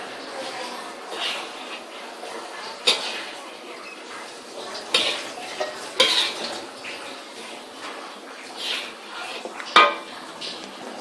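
A utensil stirring chicken with kaffir lime leaves in a pan, heard as light, scattered scrapes and clinks of metal on the pan with a few sharper knocks, over a quiet background.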